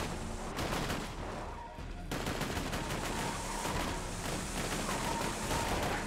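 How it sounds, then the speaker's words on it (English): Rapid gunfire from the video game Borderlands 2 rattles almost without pause across six seconds, dense bursts of shots fired at random, with a brief lull near the two-second mark before the shooting resumes loud and steady. "What are you shooting at? I'm just shooting randomly."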